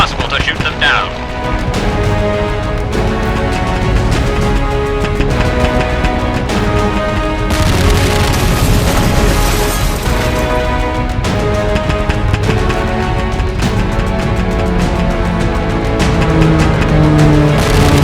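Minecraft Create Aeronautics air battle between Japanese Zeros and American fighters such as the F4U Corsair: dense, continuous layered gunfire, booms and engine roar throughout, swelling louder midway, with no talk.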